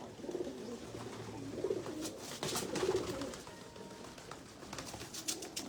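Pigeons coo in a garden in Islamabad, a few soft, throaty bursts repeating every second or so at moderate distance over steady outdoor background noise.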